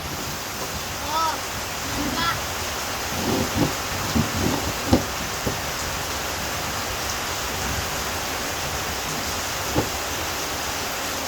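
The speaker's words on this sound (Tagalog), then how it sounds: "Ang lakas ng ulan, ang lamig." Heavy rain pours down steadily over a rural farm house with a nipa hut, a constant broadband hiss throughout, with a few brief knocks and a voice speaking quietly under it.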